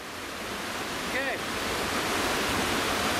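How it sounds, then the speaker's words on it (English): A waterfall rushes in rugged Dagestan mountains as a steady, loud hiss of falling water that builds slightly, with a brief faint voice-like warble partway through. "There are waterfalls and stuff."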